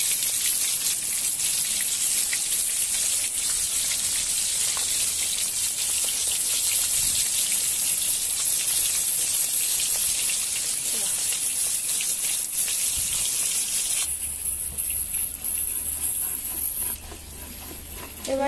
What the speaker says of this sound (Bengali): মাছগুলো ভাজা হচ্ছে, দেখতে থাকুন।